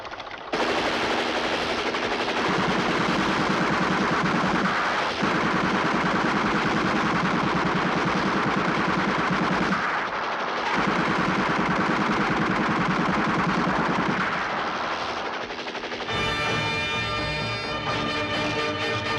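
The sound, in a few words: gunfire and machine gun shots in a film scene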